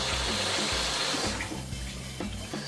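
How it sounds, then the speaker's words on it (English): A peeled hard-boiled egg rinsed under a running tap, a loud close rush of water splashing continuously, easing slightly toward the end. "let me give this a quick rinse."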